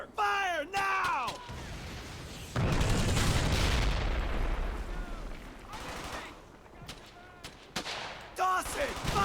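Gunfire in the World War II shooter Brothers in Arms: Hell's Highway, a sustained loud stretch of shots and explosions in the middle, with voices speaking before and after the barrage.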